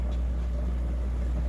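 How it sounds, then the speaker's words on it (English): A vibratory rock tumbler polishes calligraphy stone with a steady, low electric hum. The drone is constant and close, with a faint rattling texture over it and no voices. "you can hear the slight hum of the vibratory unit"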